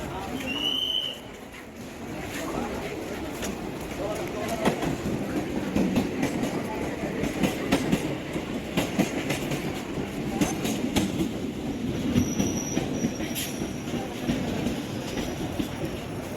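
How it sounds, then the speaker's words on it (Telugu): A local train bound for Chengalpattu pulls into a Chennai suburban station. It gives a steady, loud rumble with rhythmic wheel clatter and metallic squeals, and a few brief high tones sound over the platform noise. "ట్రైన్ వచ్చేస్తుంది."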